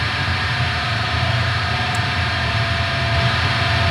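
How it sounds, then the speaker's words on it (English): A Boss HM2 distortion pedal set to maximum with the noise gate off, giving a loud, steady broadband hiss with a low hum, unchanging throughout. "That right there is a pretty noisy pedal."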